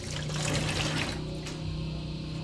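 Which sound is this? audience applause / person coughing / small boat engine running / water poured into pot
water poured into pot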